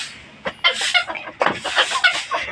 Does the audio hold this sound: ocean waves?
no